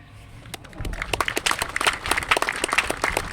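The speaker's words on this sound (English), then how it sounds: "please join me in a round of applause for the 70th Army Band" A round of applause for the 70th Army Band at a Marine Corps birthday celebration, beginning quietly and swelling within a second into steady clapping from a crowd in a hall.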